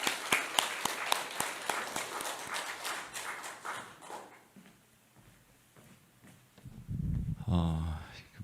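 A small lecture audience at a humanities academy talk in Gwangju claps for a pastor, with scattered sharp claps for about four seconds before fading into quiet and a low rumble.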